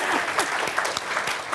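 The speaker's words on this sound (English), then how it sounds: "You can clap." A panel audience at a neighborhood opportunity forum breaks into brief, dense applause, a fast steady patter of many hands clapping close throughout.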